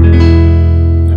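An electro-acoustic guitar runs through a preamp set for a warm, duller folk-music tone, giving one sustained, loud strummed chord that rings evenly and close.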